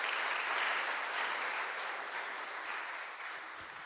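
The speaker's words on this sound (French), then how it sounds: "Je crois que vous m'avez déjà applaudi le premier jour ici, mais je prends toujours les applaudissements" Applause from a church congregation during Sunday Mass, a steady dense wash of many hands clapping that holds for several seconds and slowly tapers off, with no one speaking over it.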